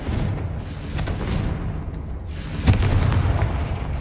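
Blast of the Confringo fire spell in the Hogwarts Legacy video game: a loud, low booming explosion with rumbling spread, and a second sharp burst near the end, with no talk over it.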